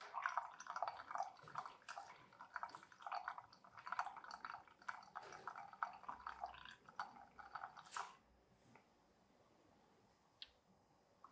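Bypass water poured into freshly brewed washed Kenya coffee, a trickling, dripping pour for several seconds that stops and leaves a quiet tail with a few faint drips.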